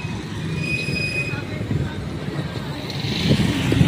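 A commuter train rumbles past near a road crossing in Cabuyao, Laguna, with a low rolling clatter and thin metallic wheel squeals, growing louder toward the end; a voice talks faintly.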